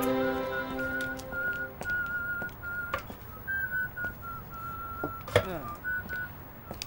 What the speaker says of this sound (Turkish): Gece gece ıslık çalınır mı oğlum?